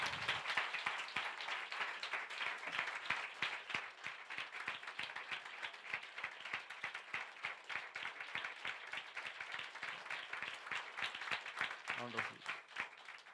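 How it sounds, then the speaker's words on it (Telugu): A church congregation claps loudly together, a dense and steady run of hand claps lasting the whole stretch, with voices faintly mixed in. "గట్టిగా చప్పట్లు కొట్టాలి అందరూ ఒకసారి."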